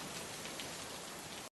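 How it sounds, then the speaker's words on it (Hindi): Rain falls in a story scene, a soft, even, continuous hiss of drops on surfaces with no breaks, heard alone until it cuts off abruptly. "लगातार तीसरे दिन भी बारिश थमने का नाम नहीं ले रही थी।"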